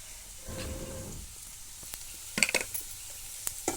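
Vegetables roast in a pan over a wood-fired stove outdoors, a soft low sizzle with a brief rumbling stir early on, then scattered sharp clinks and taps of a utensil against the pan.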